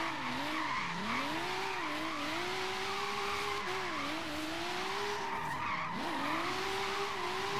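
A midnight purple Nissan S15 drift build slides through a drift in Forza Horizon 3, its tires squealing in long wavering tones over a steady engine drone.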